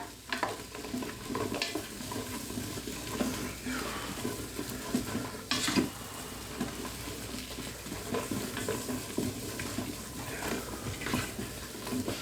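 Onions being stirred and fried briefly in an Instant Pot for a Guinness and beef stew: a close, busy sizzle with repeated scraping strokes of a spoon against the pot, steady and moderate throughout.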